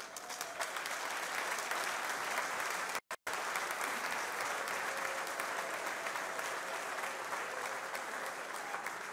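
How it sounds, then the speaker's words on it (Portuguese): A banquet crowd at a 35th-anniversary dinner claps in sustained, dense applause that fills the whole stretch at a steady level, broken only by a split-second dropout. "permitam-me que peça uma grande salva de palmas"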